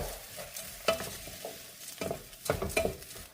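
Vegetables — corn, zucchini and tomato — with a crumbled chicken bouillon cube are stirred in a cooking pot, giving a few close scraping, sloshing strokes with faint sizzling underneath.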